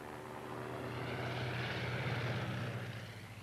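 An early World War I fabric-and-wire aeroplane drones past with a low propeller engine hum that swells and then slowly fades, heard faintly and alone.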